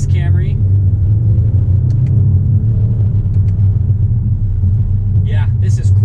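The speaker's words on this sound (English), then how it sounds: "let's get a little acceleration with this V6 Camry" A 2019 Toyota Camry XSE with its V6 accelerates, a steady loud low engine rumble with rising harmonics filling the cabin throughout, with brief voices at the start and end.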